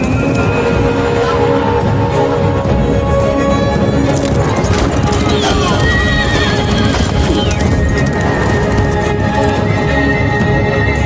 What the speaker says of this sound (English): And behold, a white horse, and he that sat on him had a bow